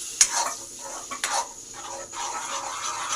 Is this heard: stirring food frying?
yes